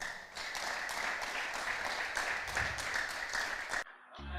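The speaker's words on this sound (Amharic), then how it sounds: "አጨብጭቡ ለጌታ ክብር።" A church congregation claps together, a steady dense patter of hands that holds for several seconds and then cuts off abruptly into near silence.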